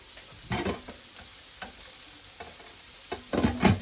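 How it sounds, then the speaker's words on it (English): A sautéed mixture is stirred in a hot pan for Salisbury steak, with a quiet background sizzle broken by several sharp scraping and clanking strokes of the utensil, the busiest burst of stirring coming near the end. "these are done sauteing, so I'm just going to move them to the side and finish mixing this in"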